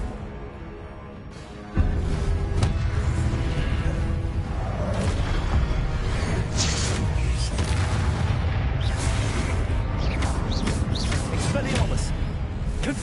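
Confringo blasting spells explode over and over in Hogwarts Legacy, a dense run of booms and crackling bursts during combat, with a voice talking beneath the blasts.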